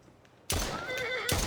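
After a short quiet moment, a horse in a video game lets out a loud, close whinny with a wavering, descending pitch.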